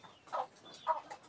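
A black mother hen clucks twice, soft short calls about half a second apart, close by over a quiet background.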